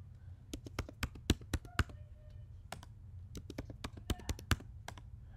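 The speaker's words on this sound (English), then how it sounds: "type in a password" Computer keyboard keys tapped while a password is entered: quick bursts of sharp, close clicks in two clusters with a short pause between, over a low steady room hum.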